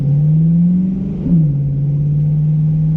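A Corvette C8 fitted with a Borla ATAK exhaust gives a steady, loud low drone that swells briefly as the throttle blips midway, then settles back into an even rumble.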